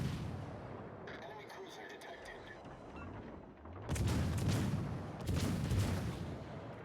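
Naval artillery fire in World of Warships Legends during a battle against the Mainz: low, rumbling booms roll continuously, with heavier salvos swelling in twice near the end.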